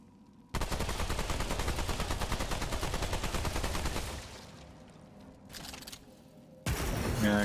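Sustained rapid fire from a long gun in the Remnant II video game, a dense roaring burst for several seconds that cuts off, a brief quieter stutter, then another loud burst resumes.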